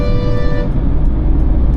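A short car horn blast sounds up close, loud and steady for under a second, then cuts off, leaving road noise rumbling beneath, on a highway drive between Chennai and Tiruvannamalai.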